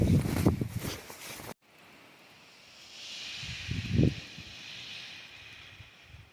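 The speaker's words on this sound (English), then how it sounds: "Love the sound of the wind above your head." Wind swirls and hisses overhead on a winter alpine summit hike, a steady broad rush that swells gently, with a couple of brief thuds like footsteps or mic handling.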